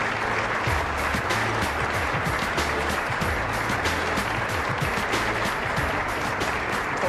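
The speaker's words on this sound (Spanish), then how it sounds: "Quiero pedir un aplauso para él, por favor." A crowd breaks into continuous applause for a hospital manager, many hands clapping densely and loudly at an even level the whole time.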